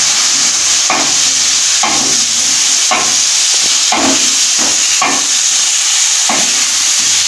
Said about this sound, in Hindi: आलू को अच्छी तरह से हमने 1 से 2 मिनट फ्राई करना है इसमें।